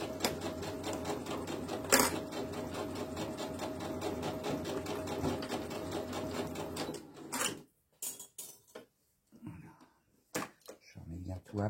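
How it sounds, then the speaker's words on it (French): A sewing machine runs a steady, loud whirring stitch along a snood seam a centimetre from the edge, with forward and reverse stitching, about seven seconds, then stops, leaving quiet handling noises and brief clicks. "Donc là, je couds à 1 cm du bord."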